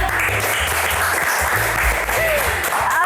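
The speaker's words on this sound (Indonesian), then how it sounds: "tepuk tangan deh dua-duanya" A crowd applauds loudly and continuously, dense clapping filling the room, with a few voices faintly mixed in.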